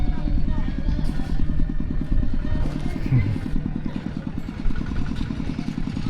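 A farm tractor engine chugs close by with a steady, rapid low thump, loud and continuous, with faint voices and rattling underneath, in a rural village in southern Laos.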